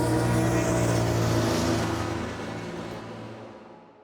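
A 2025 Aprilia Tuono V4 Factory 1100 motorcycle engine roars with a dense, loud buzzing drone that holds steady, then fades away as the bike recedes into the distance.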